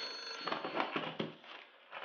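A telephone rings in an animated cartoon scene, a loud, shrill electric bell sounding in quick repeated bursts that fill the short moment alone.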